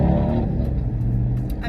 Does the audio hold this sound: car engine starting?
yes